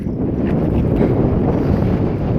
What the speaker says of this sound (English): it's like tropical storm force gusts up here.